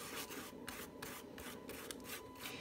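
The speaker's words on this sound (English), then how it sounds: "this time you're just going to be covering it in the varnish." Brush strokes laying varnish over decoupaged shoes, a soft close rhythmic swishing with regular strokes about every half second.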